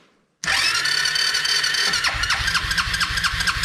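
An Arctic Cat 300 ATV engine cranks and struggles to start after a brief silence, a loud, steady starter whir that turns into uneven, sputtering pulses near the end.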